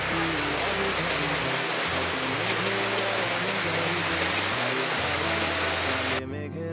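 A sudden outdoor downpour falls under a clouded sky. It makes a loud, dense, continuous hiss that stays steady across the stretch, with low rumbling underneath, before it drops away abruptly near the end.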